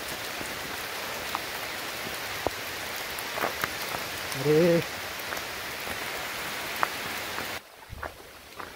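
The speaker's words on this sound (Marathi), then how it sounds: "आता पाऊस चालू झाला" Heavy rain pours steadily during an outdoor trip to a hill, a dense continuous hiss of drops striking surfaces nearby, with a brief spoken exclamation partway through and the downpour softening near the end.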